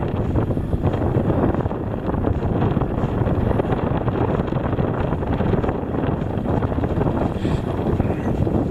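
Crosswind at a fishing spot buffets the microphone in a continuous low roar and rumble for the whole stretch, loud and steady with no voices.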